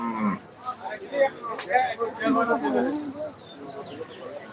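Cattle moo and low nearby amid the busy hubbub of a Qurbani cattle market in Hathazari, Chittagong, with voices talking over the animals.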